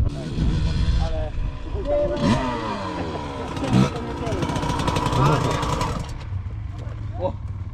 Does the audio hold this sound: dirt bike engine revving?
yes